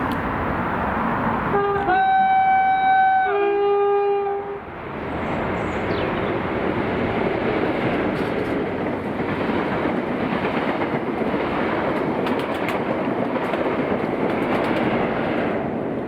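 Passenger train running near Wemyss Bay, Scotland, with a two-tone horn sounding twice early on, followed by a continuous broad rumble of the train rolling past, steady and fairly loud.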